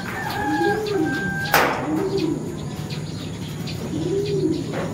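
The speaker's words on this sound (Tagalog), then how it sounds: "ito yung pinakamabait kong ibon, si Landi, no?" A racing pigeon coos in close, repeated throaty rolls spread across a few seconds, with a sharp click partway through and faint chirps from other birds around the loft.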